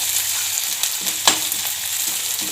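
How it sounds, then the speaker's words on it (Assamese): Spices are stir-fried with browned onions for a chicken curry, a steady close sizzle with a few quick scrapes of a stirring spoon in the pan. "এতিয়া মই এই মছলাখিনি দি দিম তাতে এই মছলাখিনি দি অকণমান লৰাই দিওঁ"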